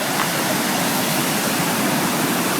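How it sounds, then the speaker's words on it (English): Stream water rushing down a natural rock water slide on the Appalachian Trail near Katahdin, a loud, continuous broadband roar close by with no break. "It's kind of a natural water slide here. Stream coming down."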